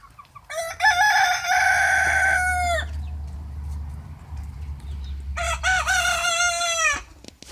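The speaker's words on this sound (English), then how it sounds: "This big beautiful rooster there, boy." A big rooster in a backyard chicken flock crows loudly and close by twice, each long strained call separated by a few seconds of quieter barnyard background.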